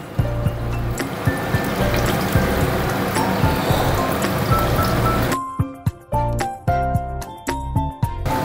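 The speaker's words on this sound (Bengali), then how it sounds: "তেলটা গরম হয়ে গেছে, এবারে ভেজে নেব আমি।" Egg koftas coated in cornflour sizzle and crackle in hot oil over low to medium flame, a dense steady frying hiss that thins after a few seconds into sparser pops and spits.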